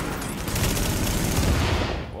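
Rapid, continuous automatic gunfire from a weapon in The Division, a dense loud burst of overlapping shots running steadily for about two seconds with no talk.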